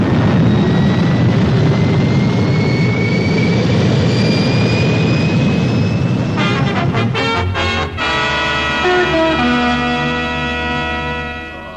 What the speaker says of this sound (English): Firing main boosters.